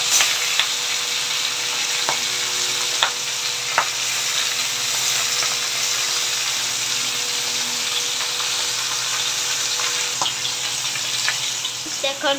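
Onions fry in a hot kadhai with a constant loud sizzling hiss, broken by a few sharp clicks of a utensil against the pan and a faint background hum.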